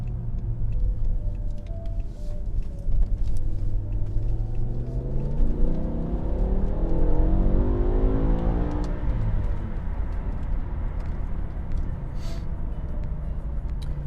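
A BMW M5 E60 sedan with its V10 engine pulls hard, its loud, steady drone climbing in pitch as it accelerates, then easing back near the end.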